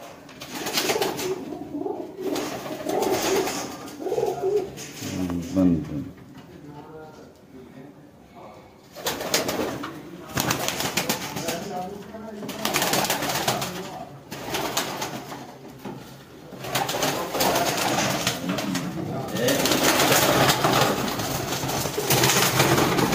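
Pigeons, high-flying birds kept at a home loft in Okara, cooing in repeated soft bursts close by, with someone speaking at intervals over them.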